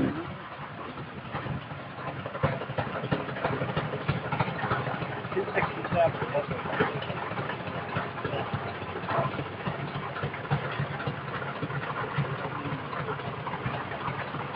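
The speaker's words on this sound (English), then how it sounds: "1913 Avery 4080, owned and operated by Marvin Stokel of Tama, Iowa." A 1913 Avery 40-80 antique tractor engine runs at a parade of power, a steady rumbling chug with clattering mechanical texture continuing throughout, while an announcer talks over a loudspeaker.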